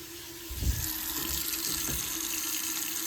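Water runs steadily from a household faucet while air is flushed from the plumbing after replacing a water expansion tank, with a few low sputtering bursts early on, then a constant close rushing flow.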